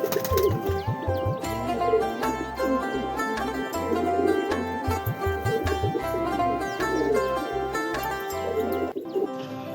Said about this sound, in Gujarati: અત્યારે કબૂતર હાથમાં પાણી પીવા માટે આવી ગયું છે